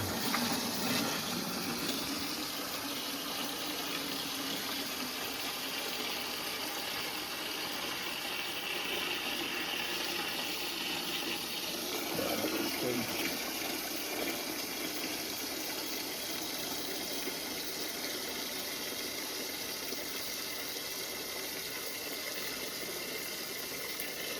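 Water from a home water heater pours into and out of a bucket, a steady gushing and splashing wash with a brief louder surge midway, fairly faint and continuous.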